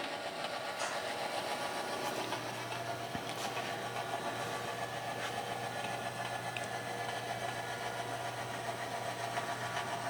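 Switcher locomotive working a rail yard, its engine idling as a steady low rumble, with faint clanks and creaks now and then.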